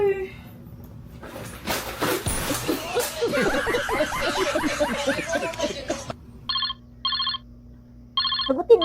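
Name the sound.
mobile phone ringtone, incoming call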